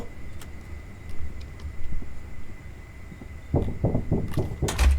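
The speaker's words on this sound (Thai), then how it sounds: "มีคนเคาะประตูอะ" Knocking on a door in the horror video game Floor 9, a cluster of firm thuds near the end of a quiet, humming scene, the last raps louder and closer together, with no talk.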